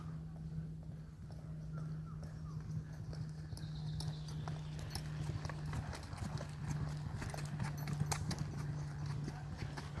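A racehorse's hooves clip-clop in a steady, fairly faint rhythm against a constant low hum, with no voices over them.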